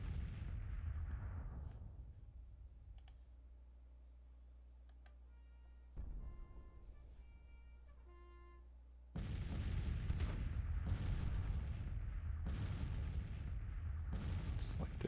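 Artillery and gunfire from a Grand Tactician Civil War battle at Mobile: booms fade to a steady rumble with light ticking game sounds, then a loud burst of sustained firing and heavy blasts returns.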